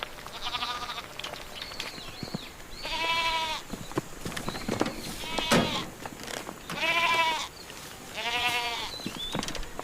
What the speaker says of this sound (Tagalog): Magpapakain na tayo ng mga alaga kong kambing.